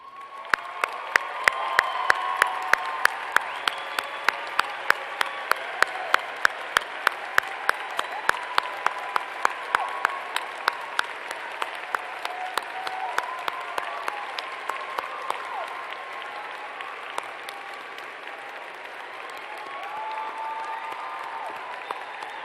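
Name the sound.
audience applause at university commencement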